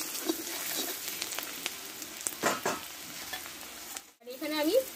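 Onions frying in a pan and being stirred as they brown, a soft continuous sizzle with a few spatula scrapes, fairly quiet and close, a brief dropout near the end, no talking.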